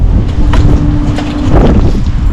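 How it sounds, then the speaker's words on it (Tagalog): Cold wind gusts steadily outdoors in Finland and buffets the microphone with a loud, continuous low rumble and a few brief rustles. "Nagulat ako sa hangin."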